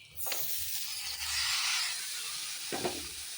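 Soft-boiled kabuli chickpeas tipped into a hot pan for ghugni, a brief sizzling hiss swelling and lingering, with a couple of scraping stirs at the start and near the end.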